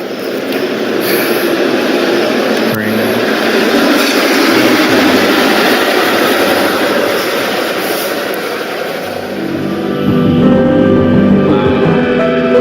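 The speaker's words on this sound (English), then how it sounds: "Train's coming." A train in a video game rumbles past, a loud sustained low roar with a high whine on top that swells and then drops into a deeper rumble near the end.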